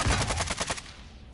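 Rapid burst of automatic gunfire in a Call of Duty-style tactical shooter, loud sharp shots in quick rhythm for under a second, then trailing off into quiet.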